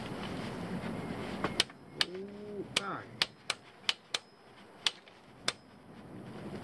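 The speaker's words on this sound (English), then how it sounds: "Using this little torque wrench." A small torque wrench tightens an oil pressure sensor on a 2014-or-later Silverado Sierra 5.3L engine. It gives a series of sharp, distinct clicks spaced roughly half a second apart, with faint ratcheting and squeaks in between.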